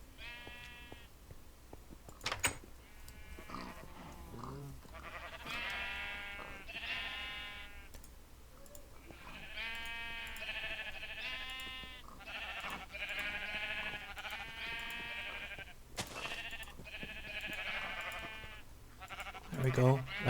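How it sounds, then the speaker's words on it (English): Sheep in the Minecraft video game bleat repeatedly in short wavering calls, several in a row across the stretch, with someone talking over and between them. "Light gray sheep."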